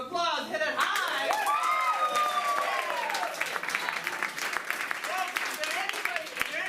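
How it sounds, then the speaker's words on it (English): An improv theater audience bursts into loud applause and cheering, with dense clapping throughout and a voice talking over it at the start. "With a round of applause, hit it high."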